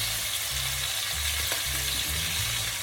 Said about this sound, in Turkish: Şimdi diğer tarafını mühürlüyorum.